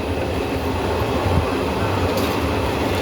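Passenger train travelling toward Prantik station near Santiniketan, a loud steady rumble of wheels and carriage noise heard from on board, continuous throughout with no talking.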